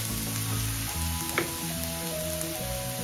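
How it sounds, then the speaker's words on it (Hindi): Garlic sizzles in hot melted fat while preparing potato garlic rings, a steady close frying hiss with a brief stir or clink partway through. "अब हम उसमें लहसुन डाल देते हैं।"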